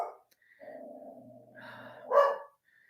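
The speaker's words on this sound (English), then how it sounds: "Doesn't bark like this at anybody else besides German Shepherds" A German Shepherd dog barks and huffs in a few close, breathy bursts, building to one louder bark near the end before going quiet.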